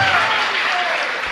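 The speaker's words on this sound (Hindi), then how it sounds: "बस तेजगढ़ नाम आ गया तो ताली बज जाती है" An audience at a spiritual discourse in Tejgarh bursts into dense, sustained clapping that is loud and close, then tapers slightly toward the end.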